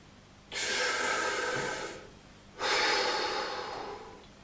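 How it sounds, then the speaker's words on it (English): Two long, close exhalations from a singer doing a diaphragmatic breathing exercise, each a steady breathy rush lasting over a second, separated by a short pause. "This is called a singer's proper diaphragmatic breath."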